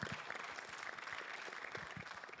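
A church congregation gives a long round of applause, dense overlapping claps forming an even, moderately distant roar that continues without pause.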